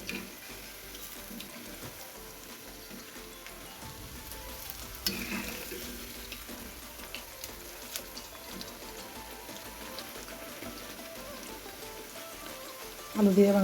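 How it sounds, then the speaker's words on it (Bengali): Spicy potato pakoras deep frying in hot oil give a steady soft sizzle and crackle, fairly quiet and continuous, with a louder burst of activity near the end. "গোল্ডেন করে ভেজে নিচ্ছি সবগুলো"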